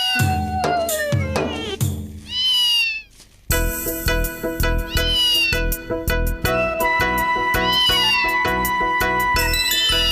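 A cat meows among bright chiming, jingling tones and layered music, its calls rising and falling over a busy, loud background with no talk.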